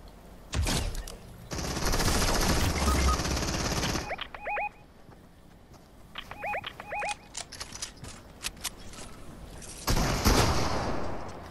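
Video game gunfire comes in loud bursts of rapid automatic shots. Quieter single shots and short clicks fall between the volleys, and heavier firing returns near the end.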